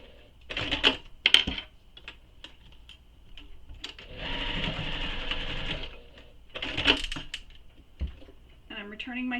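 A domestic sewing machine basting the end of a belt bag strap runs in a few short bursts and one longer steady run, with clicks and handling noises in between.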